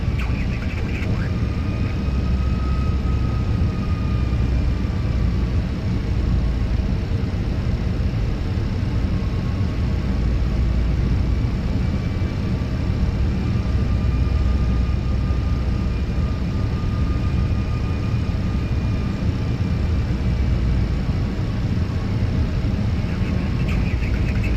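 Simulated Airbus A320 jet in Microsoft Flight Simulator, a Fenix A320 model, rolling for takeoff from a runway: a steady, loud engine roar and broadband rush holding constant throughout, with faint tonal whines drifting beneath.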